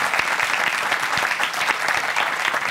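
A studio audience at a Turkish comedy relationship-test show claps energetically, with a dense, close burst of applause and some heavier individual claps cutting through.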